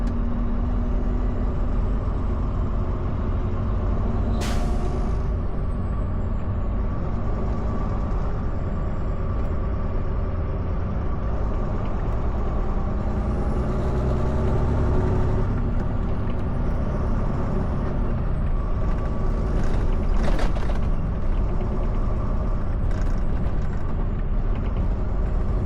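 Downtown Montreal city traffic rumbles steadily with trucks and buses, a sharp hiss of air brakes releasing near the start and again later, continuous loud engine drone throughout without speech.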